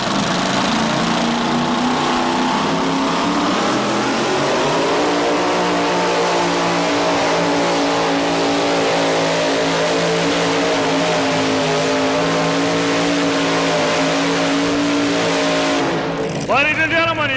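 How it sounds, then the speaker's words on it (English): A one-of-a-kind tractor pulling vehicle, the Dollar Devil 2, runs its engine loud and close at a 1987 tractor pull, holding a sustained heavy roar with rising pitch, then cutting off abruptly near the end. "1 puller left, and it's Pat Friels in another one-of-a-kind pulling vehicle, the Dollar Devil 2"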